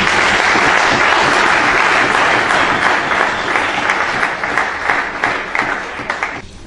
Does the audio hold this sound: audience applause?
yes